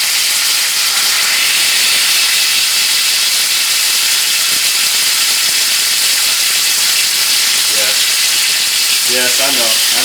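Beef tenderloin sears in bacon grease, making a loud, continuous hiss and sizzle, with a few brief clinks near the end.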